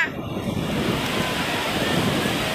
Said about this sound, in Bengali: ঢেউটা আসছে, শক্ত করে বসে থাক